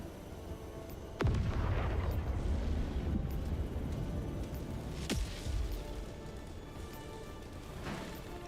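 Two sharp, heavy impacts of a support weapon drop slamming down in the video game Helldivers 2, each a sudden crack followed by a rumbling tail, set against ongoing battlefield noise with no talking.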